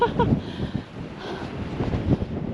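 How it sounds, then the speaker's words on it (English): Strong wind at Mount Augustus gusting and buffeting a microphone, a steady low rumble with rising and falling bursts throughout. "So, it's really windy, which is not helping."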